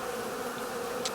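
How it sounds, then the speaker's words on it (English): Honeybees in a residential cutout buzzing and fanning, a dense, continuous close-up drone of many wings with a steady hum and no voices. "These bees down here in the bottom are fanning the location pheromone pretty heavily."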